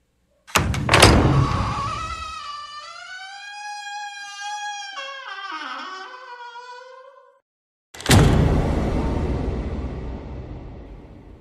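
A heavy old door creaks open in a long, groaning, wavering squeal, followed after a short silence by a loud, booming thud that rings out and slowly fades.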